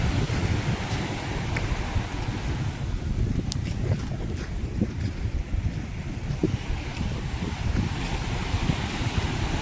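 Sea waves wash and churn beside a small private boat on open water, a steady broadband rush mixed with gusty wind buffeting the microphone throughout.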